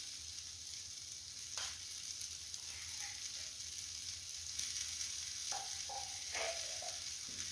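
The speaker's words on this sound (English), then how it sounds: "So to bring everything together, I'll add in my coconut cream." Steady frying sizzle of silver fish (omena) cooking in a pan as coconut cream is poured in, with a few soft stirring scrapes and clinks over the continuous hiss.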